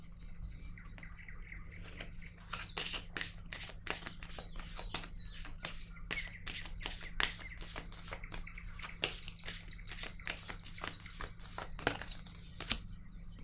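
Tarot cards shuffled with long runs of rapid, crisp riffling snaps, then set down on a surface. Close and moderately quiet over a low steady hum, with faint birdsong behind.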